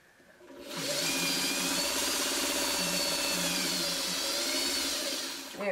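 Sewing machine stitching a leader ender and sashing onto quilt blocks, starting up after a quiet moment and running in one steady, fast mechanical hum for several seconds before slowing at the end.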